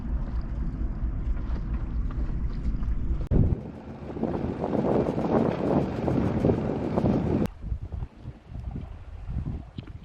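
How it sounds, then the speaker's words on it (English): A sailboat runs in a light breeze through Glacier Bay, Alaska, with constant water rushing and wind buffeting against the microphone. The wash swells louder in the middle and eases again near the end, and no one talks. "So we got a little breeze and we're sailing from Blue Mouse Cove to North Sandy Cove"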